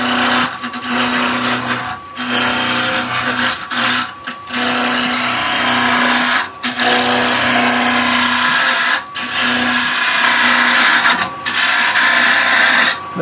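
Wood being turned into a taper on a lathe, a loud continuous scraping hiss from the cutting tool over a steady motor hum, broken by short pauses as the tool lifts away, close and without talk.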